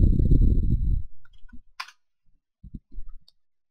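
Sparse, short mouse clicks, a few quick taps spread out after a low rumble fades, close and fairly faint while searching for a World of Warcraft addon on a computer.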